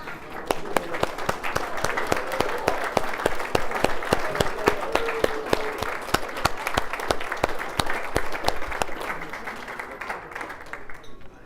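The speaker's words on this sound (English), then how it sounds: "all the adults should stand up at this point and give an applause to the children" Adults at a wedding meal applaud the children, a dense burst of many hands clapping that carries on steadily for several seconds from a roomful of guests.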